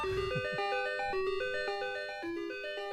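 Prelude music played from a Vectrex console, a bright chiptune melody of quick stepping square-wave notes in a regular rhythm, fairly loud and close, with no talking.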